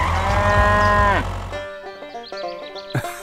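A cow gives one long, loud, low moo that fades out, followed by bright plucky tones and a short rising note.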